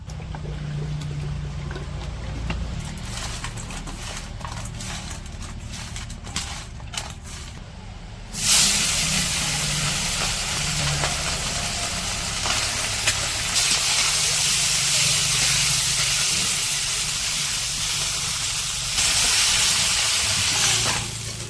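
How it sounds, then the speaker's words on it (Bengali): Small fish frying in oil with ground spices during village home cooking, a steady loud sizzle and hiss that jumps sharply in intensity partway through and continues unbroken, with a voice faintly underneath. "ছোট মাছগুলো হচ্ছে ভাইজা রান্না করবো, গুঁড়া মশলা দিয়ে দিতেছে।"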